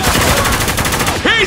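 Rapid automatic gunfire from the shooter game Spec Ops: The Line rattles out in a loud, dense burst of close shots lasting about a second and a half.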